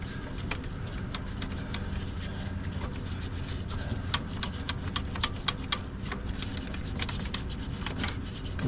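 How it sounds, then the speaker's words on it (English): Continuous close-up scratchy rubbing with rapid irregular ticks and rasps as small pegs or dowels on a 9th-generation Toyota Corolla part are wet sanded by hand, no voices. "I'm also kind of effectively wet sanding or polishing these little pegs or dowels"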